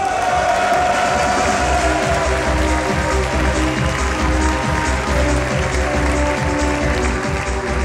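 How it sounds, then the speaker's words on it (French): Audience applause and cheering in a hall at an engineering school graduation ceremony in Besançon, a dense sustained roar of clapping and shouts lasting throughout, with some voices mixed in. "merci pour ces chaleureux applaudissements"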